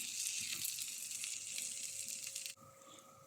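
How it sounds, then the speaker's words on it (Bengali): Snack frying in hot oil until reddish-brown, a soft continuous hiss and crackle of bubbling oil close by, steady and fairly quiet before cutting off abruptly near the end. "এই তো এক পিঠ ভেজে নিয়েছি আরেক পিঠ একটু ভাজা হোক লাল লাল করে ভেজে নিতে হবে"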